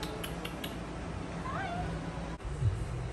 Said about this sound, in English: Look how big that cat is.